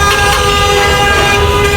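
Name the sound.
speeding car honking its horn while passing close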